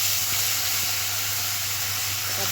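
Ginger, garlic and onion paste frying in a pan after a tempering of cloves and cardamom, a steady close sizzle and hiss with a low background hum.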